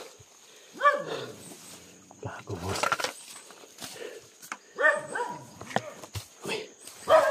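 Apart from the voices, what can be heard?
dog barking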